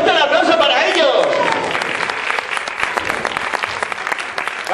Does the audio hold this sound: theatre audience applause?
yes